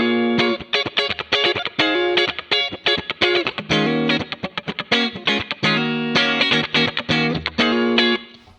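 An electric guitar plays a funky, choppy rhythm through a Valeton GP-5 with the EQ boosting the high end, giving bright, crisp, muted strums in a steady groove, loud and up close with no talking.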